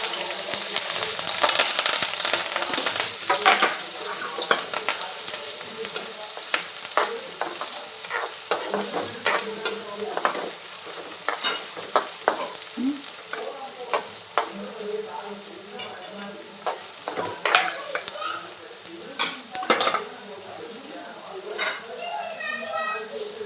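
Onion sizzles steadily in hot oil for a dry soybean chunk curry, with frequent sharp clicks and scrapes from stirring breaking through the continuous frying hiss throughout.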